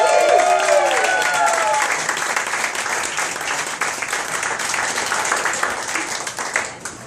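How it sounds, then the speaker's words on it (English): A comedy club audience claps and applauds for comedian Kat Harvey in steady, full applause that starts loud and slowly thins out over several seconds, with a voice speaking over the start. "please give a big round of applause for Cat Harvey."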